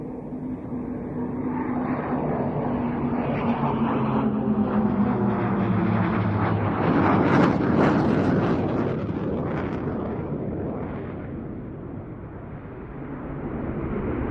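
Hornet jet aircraft flying in formation at an air show roar overhead in a broad, continuous rush that swells to a loud peak midway and then slowly fades, with no talk over it.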